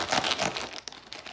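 A plastic packet holding a Huacan diamond painting order is opened up close, with soft crinkling and rustling that comes in quick irregular bursts and no talking.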